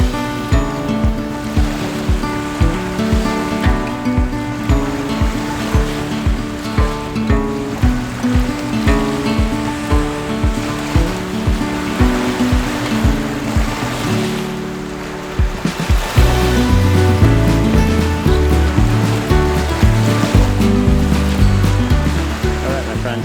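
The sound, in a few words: ocean waves washing onto the shore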